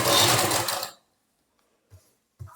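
Sewing machine stitching the neckline of a printed suit, running in one steady dense burst for about a second, then stopping, with a couple of faint soft knocks after.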